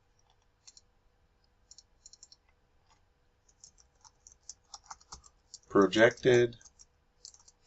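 Keys clicking on a computer keyboard as a chart title is typed in a spreadsheet, scattered soft taps in short bursts, close and quiet, with a brief spoken word breaking in near the end.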